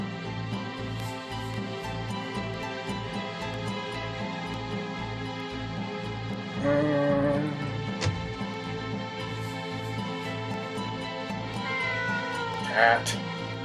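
A cat in the Star Ocean video game meows several times over a continuous game music bed, with a louder call partway through and another near the end; a person talks in the background.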